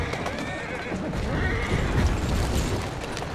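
A horse in Assassin's Creed Syndicate gives a loud neigh over clip-clopping hooves and rumbling street noise, with a voice speaking alongside.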